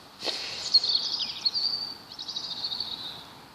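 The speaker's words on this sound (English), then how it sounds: "Lovely sound of the birds." A bird sings nearby, clear twittering phrases rising and trilling for a few seconds over a quiet outdoor background.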